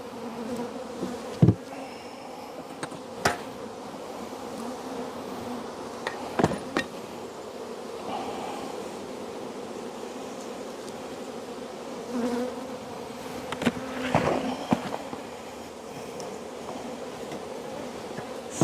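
Honey bees swarm and buzz steadily around opened beehives while hives are split for swarm control, a dense close drone with occasional knocks and clicks of hive equipment, no talking.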